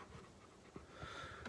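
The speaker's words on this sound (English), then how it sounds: "Sorry, that's my dog, Moses." A dog pants in short, quick breaths, close and fairly soft, with a few louder huffs toward the end and no talk.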